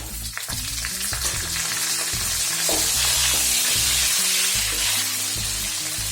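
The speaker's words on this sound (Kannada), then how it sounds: "ಕೆಂಪು ಮೆಣಸು ತೊಳೆದು ತಂದೇನೆ, ಹಾಗೆ ಅದು ಸೌಂಡ್ ಬರ್ತದೆ ಹಾಕುವಾಗ." Washed red chillies dropped into hot oil along with ginger and green chili for a chicken curry, setting off a loud, continuous sputtering sizzle with crackling pops from the water, heard close and unbroken.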